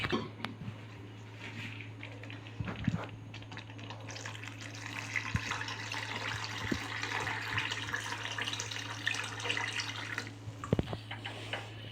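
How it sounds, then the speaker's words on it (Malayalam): Thin second coconut milk poured into jaggery ada payasam for an Onam sadya, a steady liquid splashing and trickling into the pot with a low hum behind, occasional soft clinks, no talk. "അപ്പം നമുക്കിനി ആ 2ാം പാൽ ഇതിലോട്ടൊന്ന് ചേർത്ത് കൊടുക്കാവേ."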